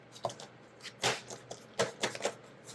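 Travel-size tarot cards are side shuffled in quick riffling bursts, soft papery flutters and snaps at an irregular rhythm, close by and fairly quiet.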